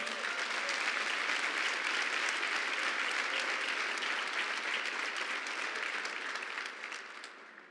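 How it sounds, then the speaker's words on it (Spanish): A church congregation applauds loudly and continuously, the dense clapping sustained for several seconds before gradually fading out. "Dale un fuerte aplauso al Señor."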